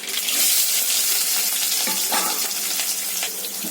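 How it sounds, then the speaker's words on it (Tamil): Mustard seeds, dal and small shallots fry in hot sesame oil, a loud, steady sizzle with scattered pops and crackles running without pause. "இப்போ நல்லெண்ணெய் காயுது. இதில் கடுகு பருப்பு, சின்ன வெங்காயம், பட்டை வட்டை."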